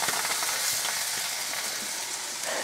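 Grilled cheese sandwich frying in a pan, a steady, loud, close sizzle that holds evenly throughout with faint crackles, no talking.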